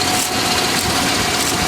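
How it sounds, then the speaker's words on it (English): A Dodge Dakota engine idles with a steady, even drone, carrying a small whirring noise from a broken speed solenoid throughout. "That funny little noise you hear, and this is the speed solenoid."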